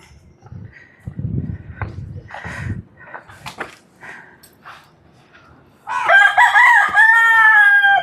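At a hilltop Murugan temple near Sathyamangalam, India, soft scattered noises and murmurs give way to a loud rooster crow near the end, a long wavering call that rings out clearly.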